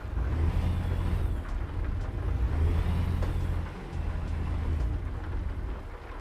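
Steady rain drumming inside a truck cab in American Truck Simulator, a dense continuous wash over a low engine rumble, loud and unbroken throughout.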